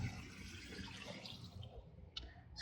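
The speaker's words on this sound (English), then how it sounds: "And we have this water stream." A small outdoor water stream flows in a soft, continuous trickle, faint and steady, with a brief splash near the end and no voices.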